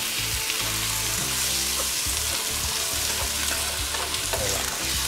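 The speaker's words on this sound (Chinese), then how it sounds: "頭先用油就咁兜一兜，爆一爆香佢。" Shanghai rice cakes stir-fried in hot oil, a loud continuous close sizzle broken by the scrape and clatter of stirring.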